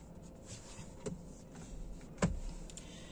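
A faint electric motor hums steadily as the steering wheel tilt and telescopic adjustment runs in a Volvo C40 Recharge cabin, with two soft clicks partway through and no speech.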